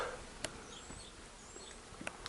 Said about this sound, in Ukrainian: Домик для пчолків.